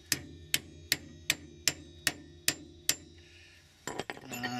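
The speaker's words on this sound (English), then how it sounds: "with the trusty club hammer, just holding the mole grips in place" Sharp metallic club hammer blows strike mole grips clamped on a seized brake pin at a steady pace, about eight in a row, followed by a short clatter of lighter knocks.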